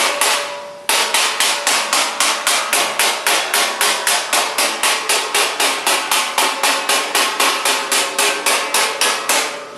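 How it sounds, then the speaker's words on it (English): Steady, rapid hammer blows ring on a sheet metal Ford Model T door panel over an anvil, a loud even rhythm of roughly three strikes per second that continues without pause. "We can keep hammering on that and kind of planish out that edge as we roll it over."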